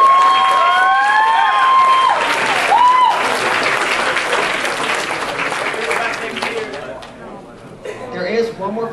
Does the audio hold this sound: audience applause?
yes